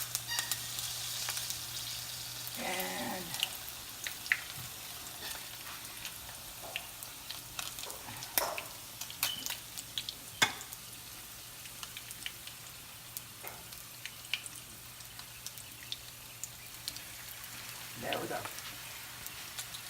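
Brisket tacos frying in a pan until crispy, giving a soft, steady sizzle with scattered crackles and pops throughout, fairly quiet and close, with no one talking over it.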